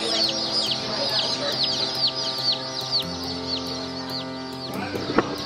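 Chickens at a hatchery chick day, with many birds clucking and peeping together in a loud, busy chorus close by, and a few sharper calls near the end.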